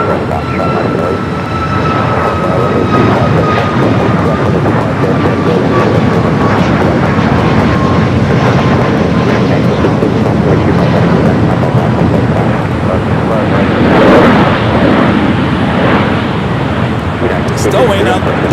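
An airliner painted in Continental retro livery at LAX roars steadily and loudly, a high engine whine slowly sliding down in pitch as it passes, with voices faintly under the noise.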